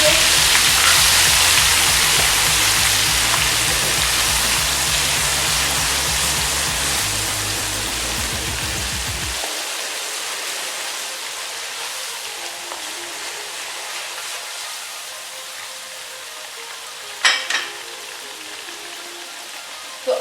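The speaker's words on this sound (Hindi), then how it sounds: "इसमें जाएगा अदरक लहसुन का पेस्ट। इसे अच्छी तरह भून लेंगे।" Ginger garlic paste and cumin frying in oil for chicken haleem, a steady, close, rain-like hiss that runs throughout, with a low hum fading out partway through and a couple of brief knocks near the end.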